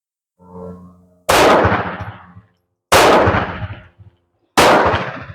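Three sharp, loud shots from a Zastava M70 7.65mm pistol, spaced about one and a half seconds apart, each with a ringing decay, preceded by a short low hum.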